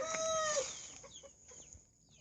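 Hens in a poultry yard let out a loud, drawn-out call followed by a run of softer, scattered clucks that fade toward the end.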